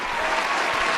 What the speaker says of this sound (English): Clap it up for us being vaccinated